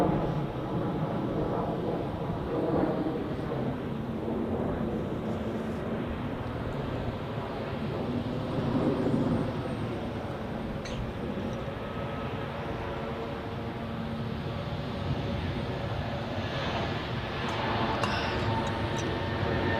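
A broad, steady roar of an aircraft taking off from runway 28 at Zurich Airport during rush hour, sustained and fairly loud throughout, with faint voices heard over it.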